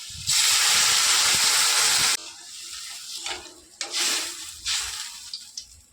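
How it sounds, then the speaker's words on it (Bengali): Water hits hot oil in a pan of partly boiled taro and potatoes, bursting into a loud, steady hiss and sizzle for about two seconds, then settling into softer, uneven sizzling with a few brief flare-ups. "তেলের সঙ্গে এবার জল দিয়ে দেবো"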